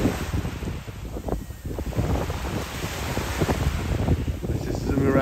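Ocean waves and gusting wind at Jaws Beach roar steadily with rumbling surf and microphone buffeting, and a voice is faintly heard in places.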